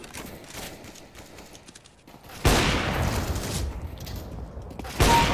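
Gunfire in the video game CS:GO, a quiet stretch followed by sudden loud bursts of rapid shots, with a second sharp burst near the end, no speech.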